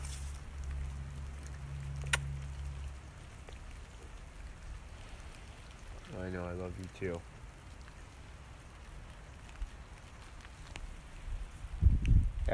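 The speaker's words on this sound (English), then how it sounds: "Yeah, it's raining. That's rain." Steady patter of rain hisses throughout, with a brief spoken exchange and a few scattered thumps and knocks.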